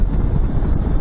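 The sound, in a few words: wind noise while riding a Suzuki DL650 motorcycle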